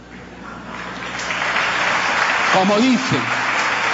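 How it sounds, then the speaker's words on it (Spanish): An audience applauds at a political speech about Peru's comptroller's office, a dense wash of clapping that builds gradually and stays strong, with someone speaking over it partway through. "aplauda, Contralor, aplauda"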